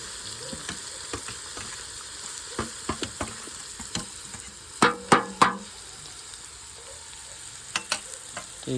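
Asafoetida and chopped onions sizzle in hot oil for a village-style stuffed brinjal curry, a steady crackle broken by scattered stirring knocks and a loud cluster of three sharp clatters near the middle; no one speaks.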